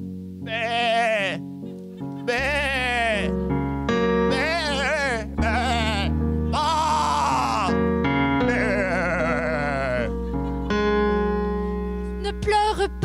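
Sheep bleat in a string of loud, drawn-out calls, one after another, with quavering wavering tones, within a sung French musical scene about shepherds over a steady low backing sound.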